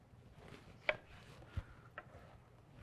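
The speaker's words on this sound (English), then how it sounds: "we have that lemon that we're going to cut in half" A knife cuts a lemon in half on a kitchen board: a few sharp isolated knocks spaced under a second apart, close and fairly quiet against faint room noise.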